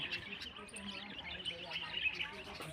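Small birds chirp and twitter softly and continuously in the background as they are fed grain, with faint voices talking under them.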